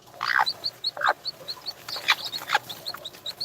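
Chickens clucking in a backyard coop, a steady run of short, repeated clucks with a few louder, harsher calls mixed in, fairly close and with no talking.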